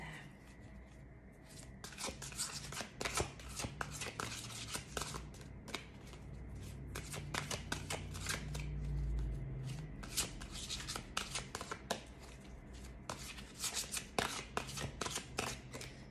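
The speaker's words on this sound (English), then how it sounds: "It's a little bit difficult to shuffle because they're like literally brand freaking new and they're stiff" Crisp, papery riffling of a brand-new, stiff tarot deck being shuffled, in repeated bursts with brief pauses between, close and fairly quiet.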